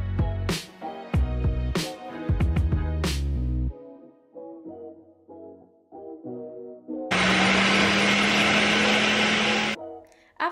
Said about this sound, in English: then I'm gonna put them in the blender to blend